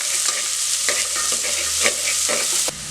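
Sliced onions frying in ghee with fennel, cumin and curry leaves give a loud, close sizzle with stirring scrapes and crackles across a few seconds.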